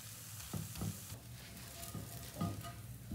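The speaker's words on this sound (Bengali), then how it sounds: "তো এটাও সুন্দর করে ভেজে নিয়েছি" Patishapta pitha fries in a pan, giving a quiet, soft sizzle with a few light scrapes and taps from a spatula.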